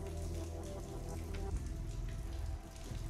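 Continuous running water in the Hitman 2 video game, a steady faint splashing flow like a tap or fountain heard from nearby, with no voices over it.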